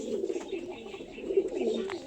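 A pigeon kept at home for sale coos softly in low, rolling phrases, fairly close, with faint household background and no clear talk over it.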